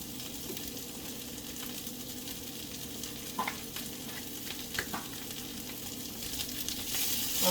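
Kale sautéing in a pan with garlic and peppers, giving a steady close-up sizzle and frying crackle with a few sharper pops and stirring scrapes, no talking.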